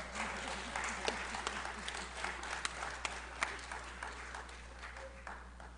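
Steady applause from an audience at a Black History Month event fills the space, dense clapping with occasional sharper claps standing out, sustained throughout.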